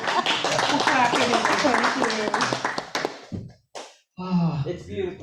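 Clapping from a congregation at a Sunday church service, dense and steady under murmured voices, then tapering off into a brief silence before talk resumes.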